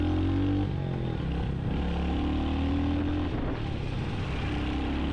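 A 2025 Royal Enfield Hunter 350 motorcycle rides through city traffic, its single-cylinder engine droning steadily and rising and falling with gear changes. The engine is close and loud, with wind noise and no talk.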